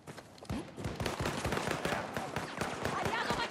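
Rapid gunfire fills a match of the video game Battlefield 2042, with dense bursts of sharp shots and overlapping reports firing steadily, loud and close, continuing without pause.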